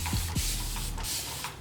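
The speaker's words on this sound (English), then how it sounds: "I'm gonna spray some water on it" Short spritzes from a spray bottle misting water onto thick, curly natural hair, a few quick hissing bursts close by.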